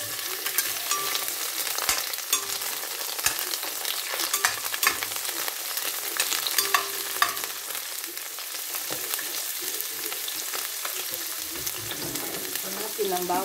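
Sliced onions sautéing in a pan for ampalaya con carne, a steady bright sizzle with occasional stirring clicks, close and alone with no talk.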